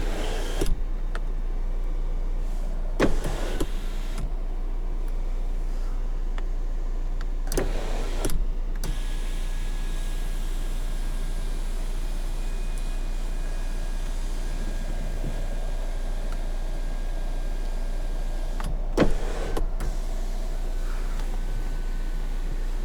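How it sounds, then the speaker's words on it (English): The panoramic sunroof of a 2019 Volvo XC90 slides open with a long, steady electric motor hum inside the quiet cabin, with a few soft clicks and bumps along the way. "Panoramic sunroof."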